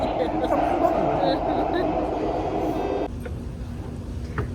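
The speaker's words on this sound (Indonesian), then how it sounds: "Ini baru naik MRT pertama." Steady rumble and hum of an MRT subway train riding through Singapore, heard from inside the car, constant throughout with a slight drop in level near the end.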